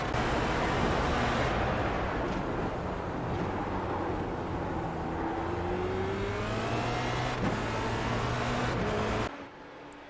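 A Formula Renault 2.0 open-wheel racer in the iRacing sim powers out of a hairpin, its engine rising steadily in pitch through the gears as a loud, sustained roar before cutting off abruptly near the end.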